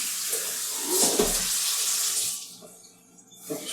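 Tap water gushes into a kitchen sink while a raw turkey is washed under it, a close, steady splashing flow that briefly changes and tapers toward the end.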